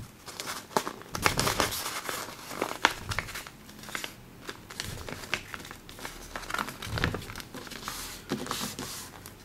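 Origami paper being folded into a ninja star, close crisp crinkling and creasing rustles coming in irregular bursts, with no speech.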